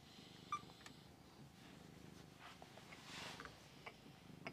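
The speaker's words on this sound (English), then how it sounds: "Just listen to her purrs." A house cat purrs up close, a faint low rumbling with a steady rhythmic pulse in a quiet room, with a couple of small clicks and taps.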